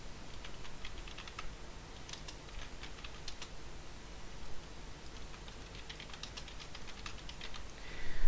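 Fingers type steadily on a computer keyboard, close and fairly soft, with quick irregular key clicks running the whole time and brief pauses between bursts.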